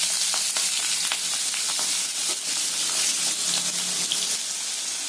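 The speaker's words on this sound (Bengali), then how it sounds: "নুন দিয়ে ভালো করে এটা বেশ কিছুক্ষণ ধরে ভেজে নেব" Potatoes frying in oil with nigella seeds, cumin and green chili, a steady close sizzle with faint stirring clicks running throughout without any talk.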